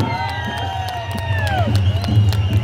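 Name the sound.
crowd applauding and cheering to welcome a leader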